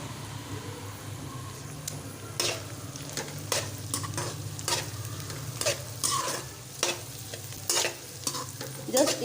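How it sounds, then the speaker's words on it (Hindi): Green onions and vegetables stir-frying over a high flame for chicken and vegetable fried rice, with steady sizzling under a low burner hum and sharp, irregular clatters of a spatula against the pan. "जस्ट 1-1, 2-2 मिनट इसको फ्राई करना है"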